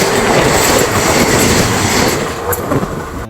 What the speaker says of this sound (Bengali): এই দেখো উদয়পুর রেল স্টেশন